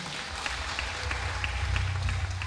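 A church gathering applauds its development chairman with a steady round of clapping from a crowd. The applause is dense and sustained at moderate loudness throughout.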